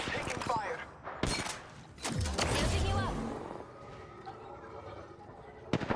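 Bursts of gunfire in a multiplayer shooter video game, sharp cracks and rapid volleys at close to middle distance mixed with clanking mechanical sounds.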